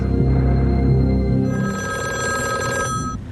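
A telephone bell rings loudly and continuously at close range with no talk over it, the ring shifting partway through to a brighter, sustained metallic tone.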